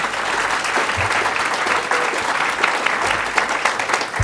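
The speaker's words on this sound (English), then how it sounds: "Another round of applause for their energy" Loud, dense applause from a conference audience, continuous clapping at close range with a few brief low thumps.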